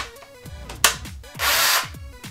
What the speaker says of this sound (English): I have my drill in here, and it even has the attachment.